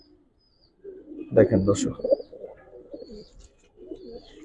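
Giribaz pigeons in a collection coo in low, rumbling bursts close by, overlapping with someone talking throughout.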